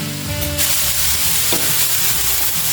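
Cabbage pieces frying over a high flame for veggie spring roll stuffing, a loud, close, continuous sizzle with brief scraping stirs, no talking.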